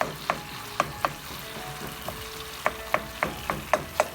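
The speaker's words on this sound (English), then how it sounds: "So you just want to let this simmer a little bit." Stuffed tomatoes simmering in sauce in a pan, with quiet bubbling and a series of small popping ticks spaced irregularly across a soft, continuous background.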